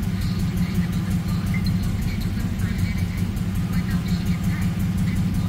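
A Holden VZ Commodore engine idling with a bank 1 misfire, a steady close low rumble with a faintly uneven pulse running throughout, no talking.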